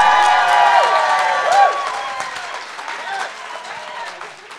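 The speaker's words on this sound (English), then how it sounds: "just remember to clap like that when it's my turn." Sustained applause from a crowd, dense clapping with some cheering and chatter mixed in, fading slightly toward the end.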